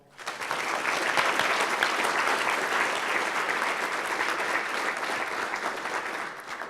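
Applause from the audience at Lonestar ElixirConf 2018 after a technical talk, clapping swelling quickly and holding steady for several seconds before tapering off.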